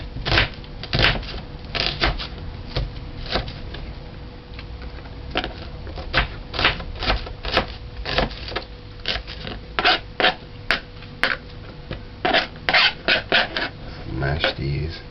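Onions diced on a cutting board for curried chicken backs, a long run of sharp knife chops, at times quick and irregular, at times spaced, close by with a little speech in between.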